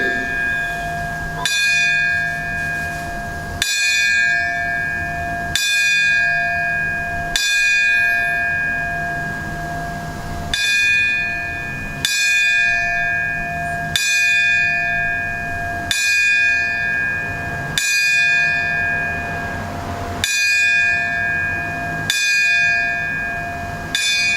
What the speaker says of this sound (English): If you could all rise for the tolling of the bell.